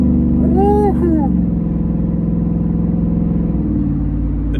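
A Ford F150 with the 5.0 Coyote V8, a cutout exhaust and the resonator deleted, revs loud and close. The engine climbs in pitch for a moment, then settles into a throaty rumble, with no talking.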